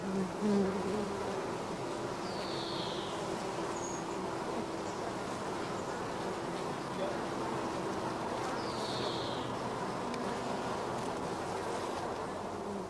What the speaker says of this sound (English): we brush the young bees off several frames of brood